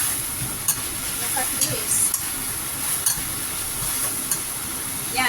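Leek stirred into beef tenderloin frying in a pan, with a steady close sizzle and hiss and occasional spoon scrapes and clicks, and a voice speaking briefly over it.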